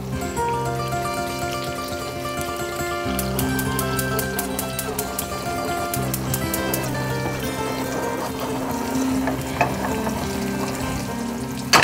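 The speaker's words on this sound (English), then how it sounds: "I gotta get the burger on high fire, man." A burger frying on a high fire, giving a close, steady sizzle with crackling spits, overlaid with sharp metallic clicks and taps partway through.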